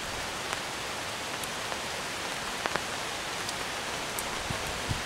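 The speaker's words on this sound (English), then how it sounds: "That rain sounds wonderful." Rain patters on a tarp shelter in a steady hiss, with scattered louder drops and taps standing out from the even wash of noise.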